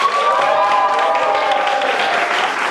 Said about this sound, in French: j'ai envie qu'on applaudisse pour ces 8 saisons.